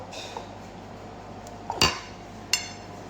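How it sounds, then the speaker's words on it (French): A spoon mixes tomato sauce with ricotta in a bowl, giving a few sharp, close clinks against the dish over a quiet room background. "Voilà, donc je vais mélanger"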